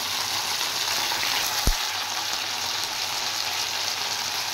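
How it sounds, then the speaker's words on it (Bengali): Okra seasoned with salt and turmeric fries in hot oil with a steady, even sizzle that holds throughout, broken once by a soft low thump. "এবার আমি ঢেঁড়সগুলো ভালো করে ফ্রাই করে নেব।"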